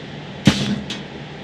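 A metal lid slides off an IBM 305 rackmount server case, starting with a sharp metallic clack followed by a short scraping slide and a second lighter click, close and alone.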